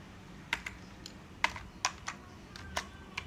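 Keys on a computer keyboard are struck in a short, uneven burst of about eight crisp clicks, close by in a quiet room, as a ping command is typed out.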